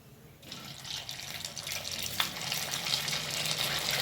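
A batch of rava medu vada deep-fries in hot oil, giving a steady, close sizzling hiss that starts after a brief quiet moment and keeps going.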